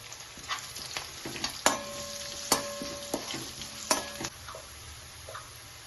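Chopped onions sizzle in hot oil in a pan for an okra curry, with a spoon scraping and stirring in irregular strokes over a steady frying hiss, close up.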